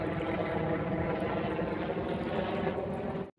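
Steady droning rotor and engine noise from a helicopter overhead, constant and fairly loud for a few seconds before cutting off abruptly, with no voices.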